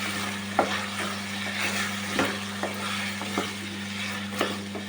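Onion masala with turmeric and chili powder frying in a pan for masala vada pulusu, a steady low sizzle with regular scraping stirs of a spoon, close and without talk.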